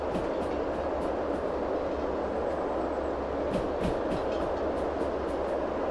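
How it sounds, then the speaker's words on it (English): In a video game, a train rumbles past in a steady roar with rhythmic clacking of wheels over rail joints, loud and continuous throughout, with no talk. "Hunter, call up the train."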